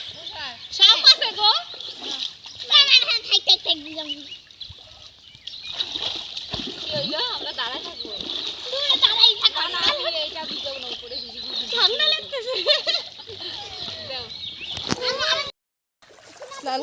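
Children splash water while bathing, with short bursts of splashing and sloshing mixed under frequent close, excited chatter and shouts from several kids.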